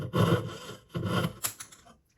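A hand saw cuts silver sheet for a stacking ring in two long rasping strokes and then a shorter one, close by and unhurried, with no talk.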